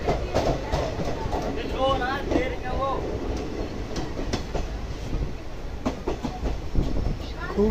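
The Uttaranchal Sampark Kranti Express pulls out of Bilaspur Road station with rumbling wheels and rhythmic clickety-clack, brief squeals, and a person talking over the continuous rail noise.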